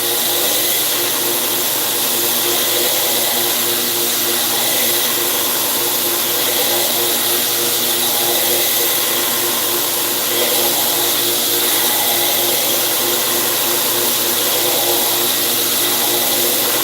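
A belt grinder grinding a bevel on a knife billet, running continuously as a loud, steady, dense whir with a constant hum and no breaks.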